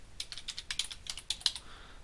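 Keys clatter on a computer keyboard as someone types a short filename, a quick run of close, crisp clicks over about two seconds with no voice.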